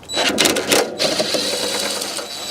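Ratchet working a 10 mm bolt loose on a BMW 1 Series (E81/E82/E87/E88) during front wing replacement, a close, busy clicking run of rapid strokes through the whole short clip.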